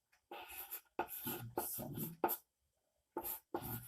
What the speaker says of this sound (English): So, just write it first.